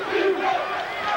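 A vocal basketball arena crowd roars and cheers steadily throughout at an NCAA Tournament game between Rutgers and Arizona State, a dense, loud wall of voices with no break.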